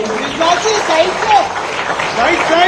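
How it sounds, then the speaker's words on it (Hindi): Loud audience applause at an honor ceremony for a women's cricketer, a dense steady wash of clapping lasting throughout, with a few voices and whistles faintly over it. "माननीय एक बार जोरदार तालियां इस समय बजनी चाहिए।"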